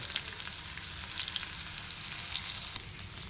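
Banana slices fry in a pan with turmeric and salt, giving a steady, close, moderately quiet sizzle with light crackles throughout and no talking.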